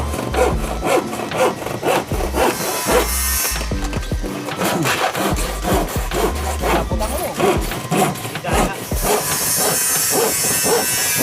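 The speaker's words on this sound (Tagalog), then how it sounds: "Talim na lagari ah." A hand saw cuts through plywood on a construction site, a steady back-and-forth rasp of quick strokes, close and loud, with a brief pause partway through.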